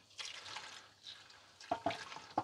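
Liquid gently poured into a container during driveline repair on a Holden VX Calais, soft trickling and splashing in short bursts, closing with a few louder glugs and drips up close.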